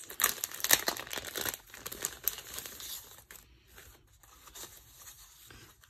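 A paper package of ephemera cut-apart pieces being torn and opened, with loud crinkling and tearing bursts up close for the first few seconds, then quieter rustling and handling of paper.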